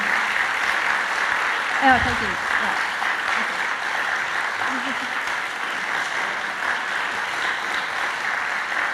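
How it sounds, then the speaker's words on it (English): Audience applause fills the room after a talk on the Underground Railroad, a steady broadband clatter of many hands lasting throughout, with a brief nearby thank-you spoken over it. "Let's give her another round of applause."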